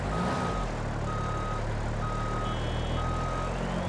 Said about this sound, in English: by the time I get this thing moving backwards